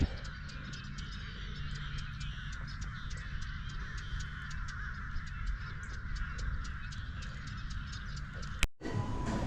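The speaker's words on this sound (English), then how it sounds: "The birds are waking up." Birds calling at dawn near Plymouth, just north of Apopka, a steady chorus of repeated sharp chirps and caws over low background rumble, ending in a brief loud knock.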